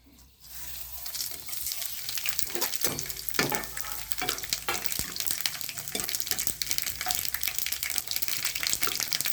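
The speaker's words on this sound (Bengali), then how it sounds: "কালো সর্ষে, 5 ফোড়ন আর শুকনো লঙ্কা, এইটা আচারের জন্য আমি এখন ফোড়ন দেব।" Black mustard seeds, five-spice and dried chillies temper in hot oil for pickle, bursting into a loud, dense, close sizzle that stays steady, with spattering crackles and occasional stirring knocks.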